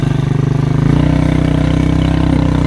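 A motorcycle running close by on a rough journey near a river, its engine a steady, loud pulsing drone that rises slightly in pitch partway through, with no talk over it.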